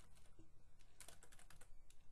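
Typing on a computer keyboard, with quick, irregular key clicks and a few louder taps, heard faint and close against a quiet background.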